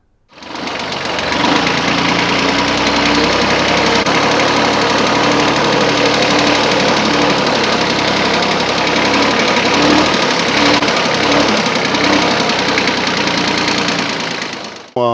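A 2018 mini tractor used for weeding runs loud and close, a steady knocking diesel chug that holds constant before cutting off at the end.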